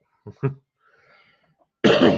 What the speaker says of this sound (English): I'm getting that cough